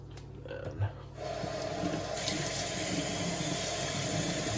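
Tap water running into a kitchen sink as a paint brush is swished around in it, a steady close splashing rush after a quieter start.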